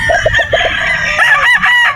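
A Sweater Boston gamefowl rooster crows loudly and close at a game farm in Batangas, in a brief sustained call with a few clucks around it.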